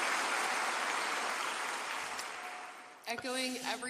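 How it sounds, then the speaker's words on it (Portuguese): Crowd applause at a vigil for Charlie Kirk in the USA: dense clapping from a large audience that gradually fades, followed by a voice speaking near the end. "Escutamos a plateia aplaudindo."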